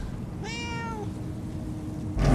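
A cat in Murdered: Soul Suspect lets out a single clear, drawn-out meow, near and distinct over quiet game ambience, followed by a short thump at the end.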